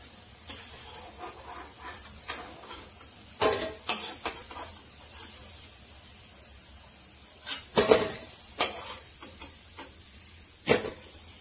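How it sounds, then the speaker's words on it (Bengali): Pakoras fry in a pan of oil, with a low steady sizzle broken by sharp clatters and scrapes of utensil against the pan in two bursts. "এই পাশটা ভালো করে ভেজে নেব। পকোড়াটা লাল করে ভেজে নিয়েছি"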